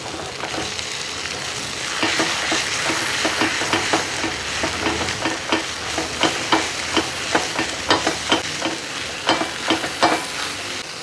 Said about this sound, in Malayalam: ഇനി ഇതെല്ലാം കൂടെ നന്നായിട്ടൊന്ന് ഇളക്കി കൊടുക്കുക